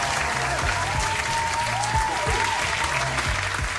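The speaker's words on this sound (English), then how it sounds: "Just clap it up for that." Studio crowd on a morning talk show giving a loud, sustained burst of clapping, a dense even wash with a few tonal sound-effect swoops layered over it and no talk on top.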